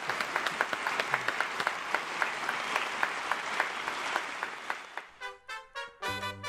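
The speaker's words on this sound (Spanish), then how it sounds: "Un aplauso al maestro Héctor Infanzón." Audience applause for maestro Héctor Infanzón, with sharp rhythmic clapping beats running under the sustained crowd clapping, then tapering off into a few seconds of voiced sound at the end.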